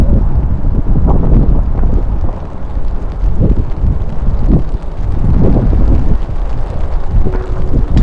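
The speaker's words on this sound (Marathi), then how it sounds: "वाऱ्याचा वेग खालच्यापेक्षा कैक पटीने जास्त होता" Strong monsoon wind buffets the microphone on the plateau below Irshalgad fort in Maharashtra, a loud, continuous roar with gusty surges and low rumbling throughout.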